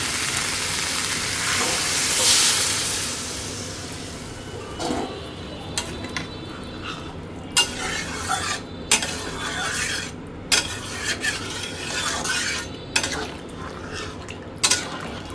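Fish curry being stirred in a pot in a home kitchen, with a steady sizzle under repeated clinks and scrapes of a utensil against the metal pot, sharp knocks recurring irregularly near the end.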